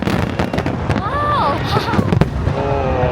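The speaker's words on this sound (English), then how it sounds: "in about 10 minutes we'll be watching fireworks at this direction" Fireworks burst at a crowded outdoor show in Japan, sharp booms and crackles arriving in quick succession amid crowd noise and people talking.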